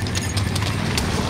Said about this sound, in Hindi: ये देखिए घोड़ा इधर से आ रहा है